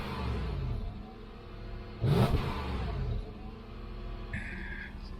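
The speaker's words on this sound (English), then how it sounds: "There's the sound of the V8." The V8 of a 2008 Lexus GX470 revving, a smooth mid-pitched rise and fall of the engine with one brief louder surge, heard close and fairly quiet.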